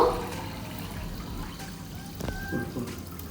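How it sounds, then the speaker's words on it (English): Soda poured into a glass of fuljar fruit mocktail, a steady low liquid trickle and fizz running for a few seconds, close and fairly quiet. "Now take the soda. Try to pour about"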